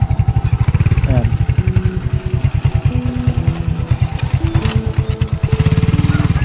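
A motorcycle engine runs with a steady, fast chugging pulse close by on a rural road, with brief voices and clattering over the continuous beat.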